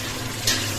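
Chopped onions drop into a hot frying pan with oil, a short burst of sizzling that swells and then settles into a steady, close fry over a constant kitchen hum.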